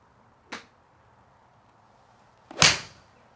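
A sharp, crisp strike rings out once, preceded by a fainter tap; a thin-faced TaylorMade P790 golf iron cleanly hitting a ball, close by, with quiet surroundings.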